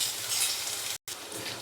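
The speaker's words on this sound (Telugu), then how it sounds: "అల్లం వెల్లుల్లి పేస్ట్ పచ్చివాసన పోయేదాకా మీడియం ఫ్లేమ్లో పెట్టుకొని బాగా కలుపుతూ వేయించుకోవాలి" Ginger garlic paste frying and being stirred in a pan over a medium flame, a steady close hiss of sizzling oil with a brief silent gap midway.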